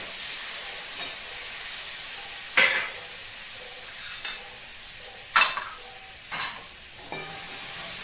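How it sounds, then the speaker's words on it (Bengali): Ground spice paste frying in a pan with turmeric and salt water: a steady low hiss with sharp sizzling bursts as it is stirred, close and moderately loud, with no talking. "এখন এই হলুদ আর নুন গুলে রেখেছিলাম জলের মধ্যে, সেটা দিয়ে একটুখানি খুব ভালো করে কষিয়ে নেব।"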